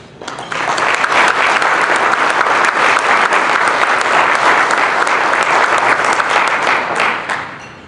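Sustained audience applause at a Texas Baptist Convention breakfast, congratulating newly elected leaders; dense, steady clapping from a large crowd swells in quickly and holds for about seven seconds before tapering off.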